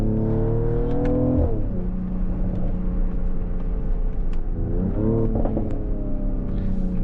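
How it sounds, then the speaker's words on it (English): A Mercedes-AMG GLE 53 Coupe drives with a loud, droning exhaust that swells through two rising revs, with faint pops scattered over the steady rumble, close and continuous. "This exhaust, when it gets hot, it's so loud for today with the exhaust pops."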